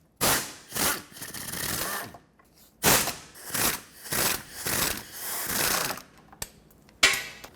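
Ratchet working loose the last oil pan bolts on a 2009-2014 Ford F-150 with the 5.4L engine, close-up bursts of rapid clicking with short pauses between them.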